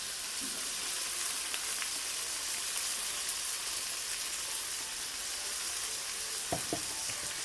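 Chopped onion, tomato, ginger and garlic frying in hot oil with mustard seeds, giving a steady close sizzle throughout with a few faint pops and clinks, no talking.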